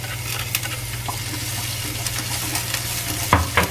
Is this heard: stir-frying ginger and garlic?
yes